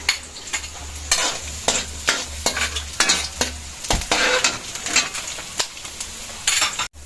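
Garlic frying in cooking oil in a home kitchen pan as the base for misua noodle soup, with a steady close sizzle and repeated clinks and scrapes from a stirring utensil throughout.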